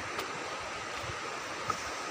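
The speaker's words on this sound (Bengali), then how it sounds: "জলে আওয়াজ হয়ে আসতেছে, প্রচণ্ড জল আসতেছে।" Heavy water rushes down the hills at Yamakunda near Sitakunda, a steady broadband roar like a waterfall or torrent, continuous and moderately loud with no voices.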